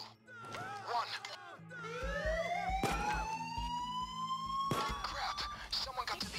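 A wailing alarm siren goes off during a PayDay 2 heist, its rising and falling tones sweeping over game sounds and scattered clanks, with a player's voice talking over it.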